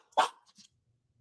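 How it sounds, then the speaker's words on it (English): A single sharp, loud dog bark close by, followed by a short fainter yip, then quiet. "That was Val's dog"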